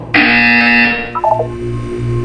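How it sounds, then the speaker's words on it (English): A loud electronic buzzer from the video game Portal 2 sounds alone in a steady harsh tone for about a second, then a few short beeping tones follow over a low background hum. "When you hear the buzzer, look up at the ceiling"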